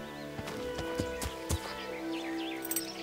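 Horse hooves clop in the medieval role-playing game Kingdom Come: Deliverance, a few distinct thuds at an unhurried pace. They are quiet, over a steady game soundscape with faint birdsong.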